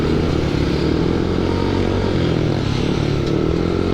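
Steady drone of a Yamaha Aerox 155 scooter engine heard while riding, loud and close with a constant low hum and wind buffeting throughout, no speech.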